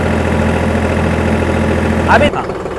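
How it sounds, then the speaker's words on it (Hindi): A tractor engine runs steadily at 1840 rpm while driving the PTO at 540, producing a constant, loud, low-pitched drone that drops away sharply near the end. "इंजन आरपीएम 1840 रख रहा हूँ और पीटीओ में पीछे आपको 540 मिल रहे हैं।"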